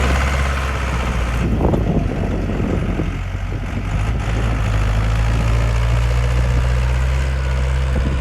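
A heavy diesel four-wheel-drive Deutz tractor engine runs loudly and steadily nearby, a deep rumbling drone with a brief surge in revs early on.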